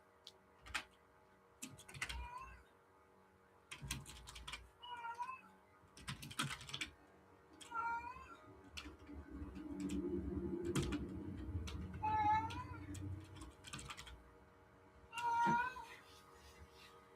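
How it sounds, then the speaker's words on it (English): A pet cat meows several times at intervals, faint and somewhat distant, over soft computer keyboard typing and clicking. "Do you hear my cat?"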